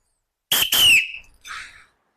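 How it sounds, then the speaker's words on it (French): A whistle gives a sharp, shrill blast that trails off, followed by a fainter second toot, loud and close, in otherwise quiet surroundings. "au son de ce dernier coup de sifflet"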